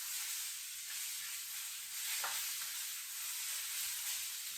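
Vegetables for ramen sizzle and fry steadily in a hot pan, a continuous close hiss with a brief stir or scrape midway.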